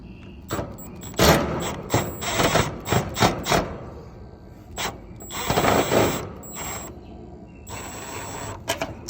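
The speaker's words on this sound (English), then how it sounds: "Just gonna unscrew this here." A screw is backed out of an HVAC unit with a tool, giving close, irregular metallic clicks, ratchety rattles and clunks in uneven bursts.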